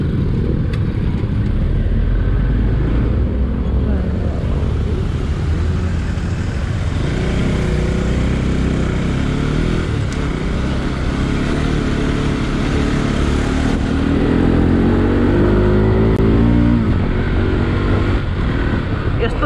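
A motorbike rides through traffic on the first day of Dashain, its engine droning loud and steady throughout, with other vehicles and wind noise mixed in.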